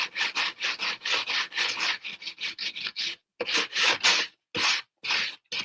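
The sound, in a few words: sanding carved wood with a sanding block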